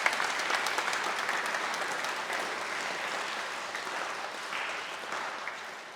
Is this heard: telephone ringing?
no